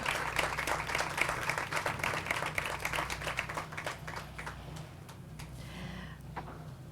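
Applause from a seated crowd at an elementary school groundbreaking ceremony, a round of clapping that gradually thins and fades out over several seconds.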